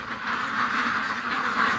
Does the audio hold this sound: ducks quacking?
yes